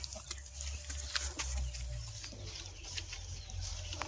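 Free-range native chickens cluck on a farm, several birds calling in short irregular bursts over low rumbling ground noise, fairly close throughout.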